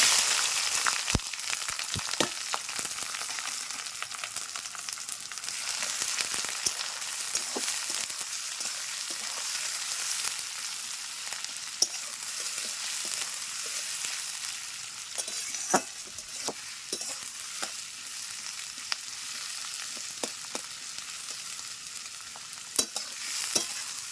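Onions and dried red chillies fry in a pan for a mutton curry, with a steady loud sizzle. Scattered sharp clicks and scrapes from stirring run throughout, and there is no talk.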